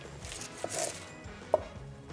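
An 8-inch Ninja NeverDull slicing knife cuts through an onion, giving two crisp, separate strokes against a cutting board over quiet room tone.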